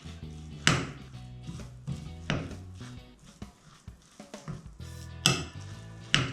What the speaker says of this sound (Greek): Θα βάλουμε όμως λίγο αλευράκι, θα το ανακατέψουμε.